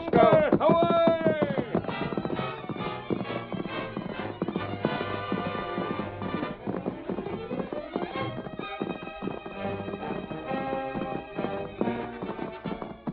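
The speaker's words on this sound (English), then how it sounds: "The masked man and his faithful Indian companion urged their horses to their greatest speed." Radio drama sound effect of two horses galloping at top speed, a rapid rhythmic clip-clop of hooves running under orchestral music and a narrator's voice.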